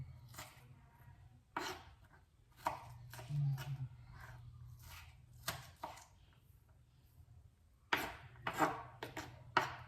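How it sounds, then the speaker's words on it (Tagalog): Knife finely chopping onion on a board for tuna cracker nuggets, a series of quick, close, moderately loud chopping bursts separated by short pauses. "basta pipinuhin lang po natin yung sibuyas"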